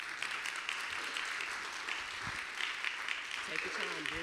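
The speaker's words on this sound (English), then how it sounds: "Clap it up" An audience at an opera talk about Fisk University claps for a young student performer, a fairly faint, steady wash of applause with a few stray voices murmuring near the end.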